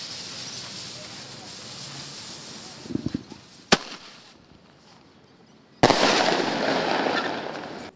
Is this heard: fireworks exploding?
yes